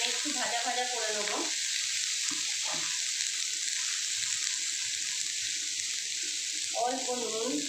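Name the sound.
pointed gourd (potol) pieces frying lightly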